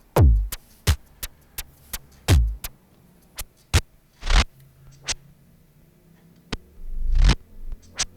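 Reverse effect from the Typhoon kammerl beat repeat plugin chopping a sound into sharp clicks and swelling reversed hits, irregular and sparse, loud and dry with short silent gaps between bursts.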